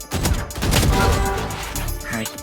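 Gunfire from the shooter game Valorant during a ranked round, a dense burst of shots with a loud crackling fusillade that holds through most of the moment over game sounds.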